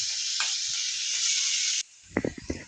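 Potato pieces and egg curry frying in a pan, a strong steady sizzle with scraping stir strokes that cuts off abruptly, leaving a few soft clinks and shuffles.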